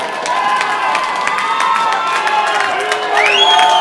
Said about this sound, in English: Look at these people cheering for him.